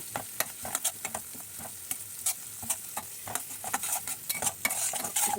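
Turmeric, chili, coriander-cumin, garam masala and salt frying together in a pan for prawn dopeyaja, with a steady sizzle and repeated sharp scrapes and clinks of a spoon stirring, close and alone.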